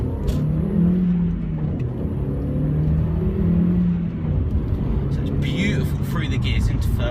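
Audi TT engine pulls hard through the gears into third and fourth, a steady loud low drone rising in pitch, with someone talking over it throughout.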